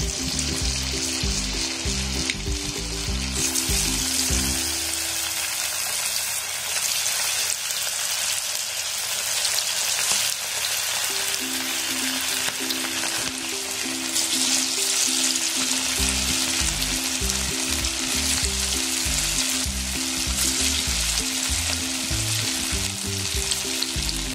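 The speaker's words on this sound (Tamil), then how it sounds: "இப்போ நம்ம எண்ணெயில போட்டு பொரிச்சு எடுத்துக்கலாம்." Marinated chicken 65 pieces deep fry in hot oil, giving a loud, dense, continuous sizzle and bubbling crackle close up for the whole stretch, with a faint tonal backing underneath.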